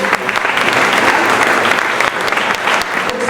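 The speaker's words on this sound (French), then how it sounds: "On applaudit bien fort tout ça." A dense, loud burst of applause from an audience at an evening awards ceremony honoring local champions in Saint-Claude, France, steady and continuous with no one speaking over it.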